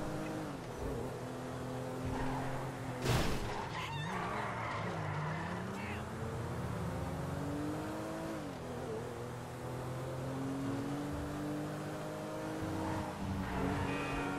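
A car engine driving in the video game GTA 5, revving and shifting pitch as it accelerates, with a skid and a sharp impact partway through; someone talks over it throughout.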